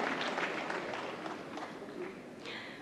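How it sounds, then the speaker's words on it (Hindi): A hall audience claps steadily at a national film awards ceremony, a soft, even spatter of hands heard from a distance. "जोरदार तालियां"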